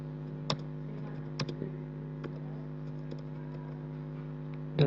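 Quiet computer keyboard typing while grades are entered manually into a school report system, sparse individual key clicks over a steady electrical hum, no talking.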